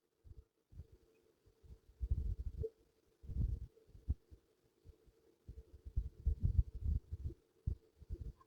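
A sewing machine stitches a sleeve onto a dress, running in short, faint bursts of low, rapid thumping with brief pauses between runs, and no talking.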